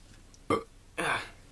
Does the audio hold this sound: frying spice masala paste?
no